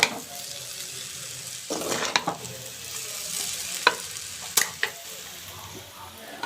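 Egg noodles tossed with fresh coriander leaves sizzle softly in a pan, while a spatula scrapes and stirs them in a few sharp, separate strokes.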